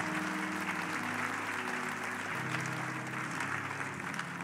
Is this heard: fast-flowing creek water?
no